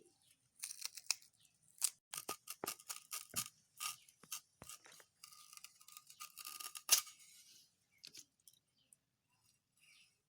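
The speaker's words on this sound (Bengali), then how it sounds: "এই থোরগুলোকে প্রথমে ছুলে নেব এইভাবে এগুলোকে প্রথমে খুলে খুলে নিচ্ছি" Fibrous banana stem layers peeled apart by hand, a run of crisp snapping and tearing sounds, fairly close, coming in quick bursts and then thinning out toward the end, with no one speaking.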